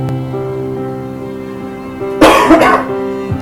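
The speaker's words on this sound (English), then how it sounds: "I apologise if I cough a lot during this video." A single person coughs sharply once, close and loud, after a stretch of quiet room hum with a faint tonal drone.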